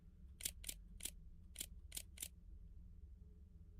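Camera shutter clicks from taking pictures in a video game, six sharp clicks in two quick bursts of three, fairly close and crisp, with a low background hum and no talking.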